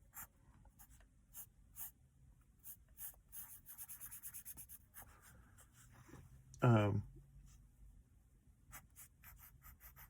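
A pencil scratches across paper while a caricature is drawn, with short, soft strokes repeating close by and one louder tonal sound midway, under talk in the background.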